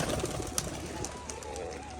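Pigeons in a newly built home loft give soft, low cooing, fairly faint, over a steady background hiss.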